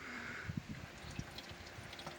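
Portable ice maker in a camper running off a power station, drawing in water with soft trickling and dripping, faint gurgles and a light hum underneath.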